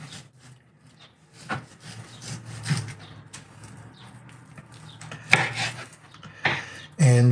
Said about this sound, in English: What I would do here is just carve it between the ribs.